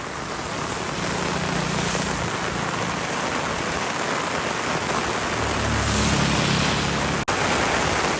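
Heavy monsoon rain pours down steadily in an urban street during a flooding downpour, a dense, constant hiss with low rumbling underneath, unbroken and fairly loud, without speech.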